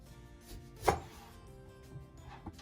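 A single sharp knife cut through an orange, one distinct chopping thud in an otherwise quiet kitchen, followed by a fainter tap a moment later.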